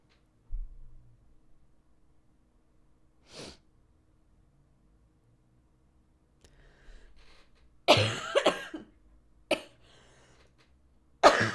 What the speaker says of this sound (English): I've kicked this cough. I'm barely coughing now.